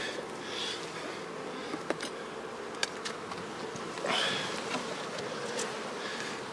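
Honey bees hum steadily around a colony's hive, a continuous close buzzing with individual insects flying past, plus a couple of faint clicks and no voices.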